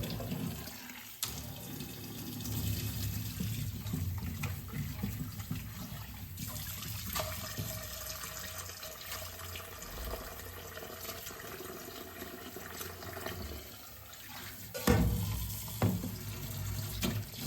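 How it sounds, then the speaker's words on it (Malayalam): Mussels are rinsed under a running kitchen tap, the water pouring steadily into a sink with occasional splashes and clatter as the shells are handled, fairly quiet and without talk. "ഇതിൻ്റെ വേസ്റ്റൊക്കെ കട്ട് ചെയ്ത് മാറ്റുന്നുണ്ട് എന്നിട്ട് നന്നായിട്ട് കഴുകി വൃത്തിയാക്കി എടുക്കുന്നുണ്ട്"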